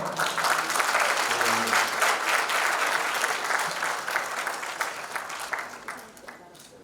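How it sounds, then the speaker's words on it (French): Audience applause at a business event in a hall, a dense continuous wash of clapping that holds steady for several seconds and then gradually tapers off. "sous vos applaudissements."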